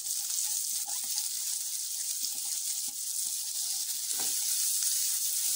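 Onion and green chili fry over high flame in a pan, sizzling steadily and close, with scattered scrapes and clinks of stirring and no voices.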